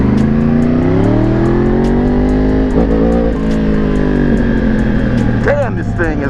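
A Yamaha R1 motorcycle engine revs hard and continuously, a loud, steady, buzzy roar with rising pitch sweeps near the end, recorded up close.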